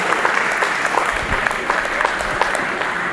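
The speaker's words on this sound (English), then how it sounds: "I want to implore you all to give yourselves a very big round of applause" Steady, full audience applause at a farewell event, the crowd clapping for themselves in a dense, continuous wash of claps.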